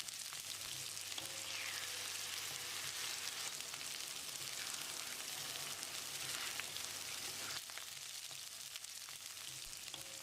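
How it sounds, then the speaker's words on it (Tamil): Ground roasted masala paste sizzles and fries steadily in a hot pan while making Pollachi-style mutton kulambu, a dense, continuous crackling hiss that stays loud and even throughout with no talking. "இப்போ இதில் நம்ம வறுத்து அரைச்சி வச்சுருந்த மசாலாவை ஊற்றிடலாம்."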